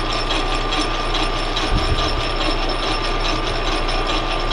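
A lathe cuts aluminum with a 10mm-shank carbide insert tool, kerosene used as lubricant, giving a steady, loud machining whir with faint tonal whine and a brief low thump near the middle.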